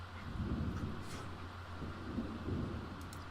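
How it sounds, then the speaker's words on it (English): A thunderstorm in The Sims 4 rolls on as a steady, low rumble of thunder with a wash of rain and wind, continuous and moderately loud, with no voices. "It's a pretty bad storm out there"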